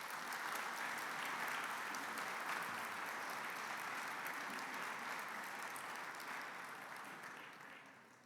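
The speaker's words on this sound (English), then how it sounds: "like a round of applause for that panel" A symposium audience gives a panel a sustained round of applause, dense and steady throughout, tapering slightly toward the end.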